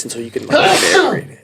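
A single human sneeze bursts out loud and close, bracketed by casual conversational speech just before and after.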